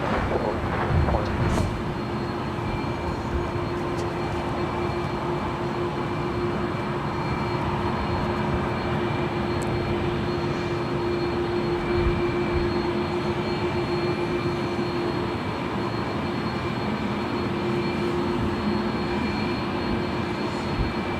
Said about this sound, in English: It's the second heavy making her way down for a departure on 24 left.